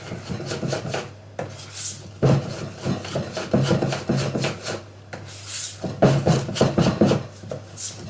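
Scraping, rasping strokes of a utensil mixing chocolate mi-cuit cake batter in a bowl, repeated in steady bursts, close and fairly loud with a low hum underneath.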